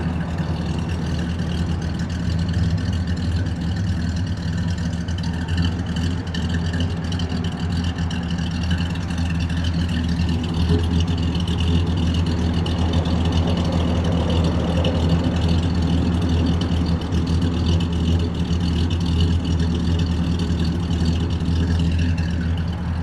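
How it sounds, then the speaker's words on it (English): A 1968 Ford Galaxie XL GT Cobra Jet convertible idles steadily on a chilly day, its period-correct exhaust giving a low, continuous rumble throughout. "Exhaust sounds awesome, very period correct."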